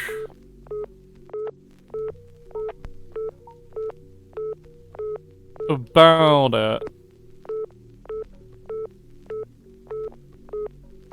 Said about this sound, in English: I can't interact with this phone. This phone is just beeping.